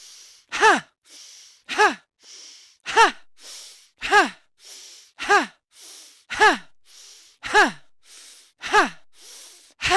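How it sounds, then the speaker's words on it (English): Forceful breathwork with quick nasal inhales and sharp exhales voiced as shouted "ha", repeated about nine times at a brisk, even pace, each loud and close with a short airy intake between. "Breathe in through the nose. This is normal breathing, not pipe breath. Out through the mouth, shouting ha."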